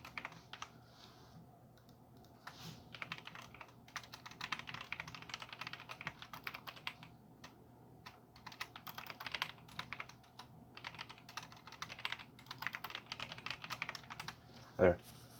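Fingers type on a computer keyboard in quick, uneven bursts of soft clicks, fairly close and quiet, with short pauses between runs.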